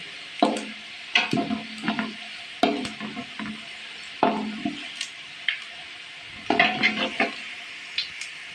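A spoon scrapes and clatters in a pan as garam masala is stirred into frying pea and potato pilaf, coming in irregular bursts with faint sizzling between them.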